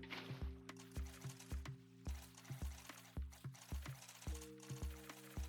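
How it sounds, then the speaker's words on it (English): Water is poured in Minecraft, a blocky video game, giving rhythmic, repeated sloshing placement sounds in quick regular pulses, clean and alone without talk. "from here, we can now add our water in"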